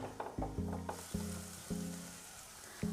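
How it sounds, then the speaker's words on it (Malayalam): Onions sautéing in a pan, a steady close sizzle broken by several sharp clanks and scrapes of a spoon stirring, with no talking. "അപ്പോൾ ഗൈസ് സവാള വഴന്നുണ്ട്."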